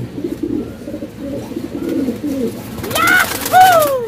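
Breeder pigeons with ring bands coo near the end, soft throaty calls rising and falling twice after a stretch of low rustling and murmuring.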